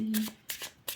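Tarot cards being shuffled by hand during a reading, three brisk papery bursts of riffling close up, with a brief low hum at the start.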